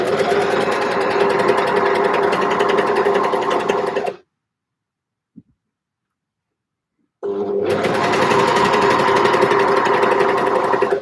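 A sewing machine runs a knit seam with minimal seam allowance, loud and close in a steady whirring burst, stopping dead for about three seconds with one small click before starting up again at the same pace.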